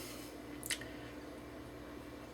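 A peeled charred tomato gives one short, soft, wet squish as its juice drips, close by but quiet against a low steady room hum, with no talking.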